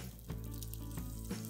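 Two eggs fry gently over low heat in a pan, a soft continuous sizzle with faint crackles, close and quiet.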